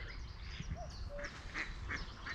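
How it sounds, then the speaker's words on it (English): Several mallard ducks quack and honk in a loose series at moderate distance, scattered calls over constant outdoor background noise. "Just heard a couple of mallards."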